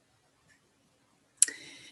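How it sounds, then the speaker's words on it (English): A single sharp computer mouse click from an embroidery software session, heard alone in a quiet room, followed by a short soft hiss. "I open up the program by clicking on embroidery."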